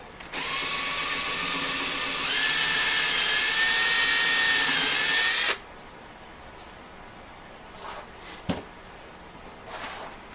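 A drill runs loud and steady for about five seconds while riveting new lining onto a 1925 Ford Model T transmission band, then stops abruptly, leaving light handling clicks and a sharp knock.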